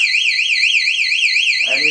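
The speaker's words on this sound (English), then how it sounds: "Within 2 seconds, this alarm padlock also will sound." An electronic alarm padlock blares a shrill warbling siren, rising and falling rapidly in a steady loop, loud and close, with a brief other sound entering just before the end.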